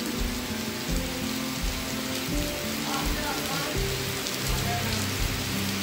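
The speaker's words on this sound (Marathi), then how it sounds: "पाऊस इलो" Steady rain pours down during a Ganpati arrival celebration, a dense, even hiss of drops drumming on surfaces that fills the whole space without pause, with occasional heavier patters and low rumbling in the background.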